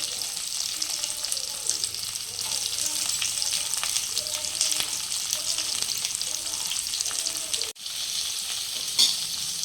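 Chopped onions for a Nellore-style mushroom curry fry in a pan with a loud, continuous sizzle and occasional stirring scrapes, close up, briefly dipping once near the end, with no talk.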